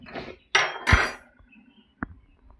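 A metal cooking pan is set onto a lit gas stove in a village kitchen, giving a couple of loud, close clanks and scrapes followed by a single lighter tap, with no talking.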